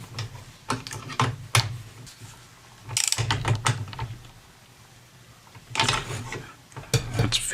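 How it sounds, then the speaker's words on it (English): A spanner and socket tightening a loose shaft on a Kriesler radio, close metallic ratcheting clicks and scraping in several bursts with quieter pauses between. "I should be able to get a spanner on there"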